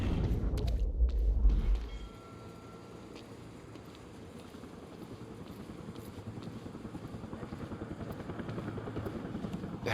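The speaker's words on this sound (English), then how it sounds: "Better get inside before the chopper spots me." A helicopter in the Quantum Break video game: a heavy, close rumble with thumping at first, then a steady, low rotor drone that slowly swells again, with no talk.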